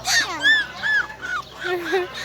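A small dog gives a quick run of high, yappy barks and whiny yips, close and loud, about five or six in two seconds.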